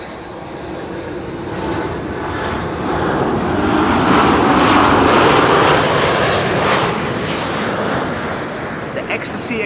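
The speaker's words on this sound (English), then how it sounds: "this is TUI once again. Max 8 737 arriving from Ibiza" A TUI Boeing 737 Max 8 lands at Amsterdam Schiphol, its loud jet roar building steadily to a peak and then fading slightly as it passes close by, with people talking over it.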